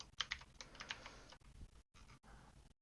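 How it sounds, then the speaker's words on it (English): Fingers type on a new computer keyboard, producing quick irregular bursts of crisp key clicks close to the mic, with short pauses between flurries and no speech. "I'm getting used to the new keyboard."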